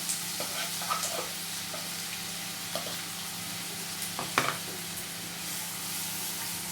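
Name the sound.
chopped onion frying in oil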